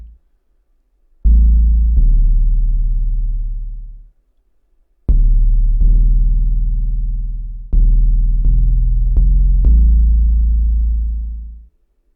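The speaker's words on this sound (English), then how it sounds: "I kind of like that clipping maximizer. It gives it almost like a little distortion" A deep, sustained bass synth loop through a clipping maximizer, with gritty, slightly clipped distortion, notes swelling and decaying in a repeating pattern with no other sounds.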